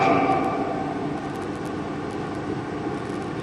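A Nigerian Air Force indigenous military UAV drone returns to base to land, giving a steady broadband engine drone at moderate, constant loudness with no voices.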